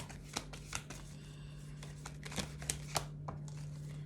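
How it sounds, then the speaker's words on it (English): A deck of tarot cards is shuffled quietly, giving soft repeated riffles and light slaps against a steady low hum in an otherwise calm room. "we'll shuffle again"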